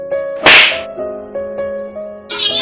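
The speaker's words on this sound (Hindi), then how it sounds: "अम्मी टाई ऐसा कहते तो जंकुक टाई को थप्पड़ मार देता।" One sharp, loud slap sound effect in a Hindi-dubbed romance story, striking over a steady music bed, followed by a brighter swishing burst near the end.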